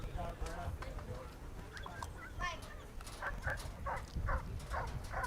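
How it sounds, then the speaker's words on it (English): A dog barks in short, repeated bursts at a dog sport competition start line, the yips and barks spaced irregularly and mixed with whimpering amid crowd and handler chatter. "Oh, barking here on the build-up."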